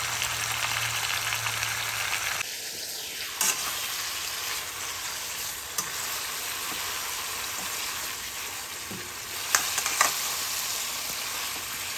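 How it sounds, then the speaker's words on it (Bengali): Mixed vegetables sizzle steadily in hot oil with tempering spices and turmeric for a Bengali labra curry, giving an even, close frying hiss with a brief tone near the start and a few faint utensil clicks. "ফোড়নের সাথে সবজিগুলো আমার ভেজে নেওয়া হয়ে গিয়েছে"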